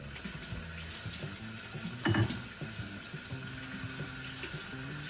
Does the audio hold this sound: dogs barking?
no